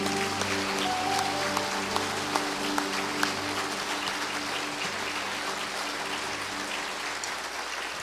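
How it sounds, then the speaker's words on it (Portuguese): A church congregation applauding during a Sunday service, steady crowd clapping over sustained organ or keyboard chords, continuing evenly for several seconds as the held notes fade out. "vamos dar um salve de palmas para o nosso Deus"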